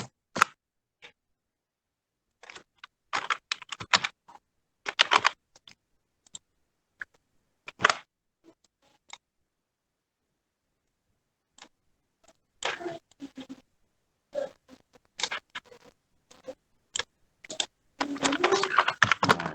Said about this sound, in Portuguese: Vou digitar novamente.